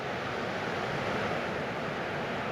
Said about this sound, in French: Le son des vagues, calme de la nature.